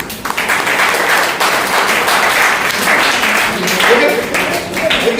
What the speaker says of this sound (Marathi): आनंद वाजवत टाळ्या वाजवल्या पाहिजे तुम्ही